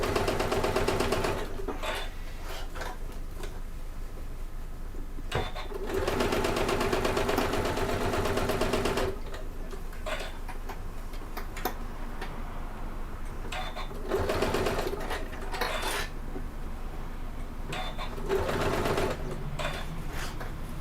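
Sewing machine stitching a bag gusset in short, stop-start runs, bursts of quick mechanical rattling separated by pauses as the fabric is shifted, close and moderately loud.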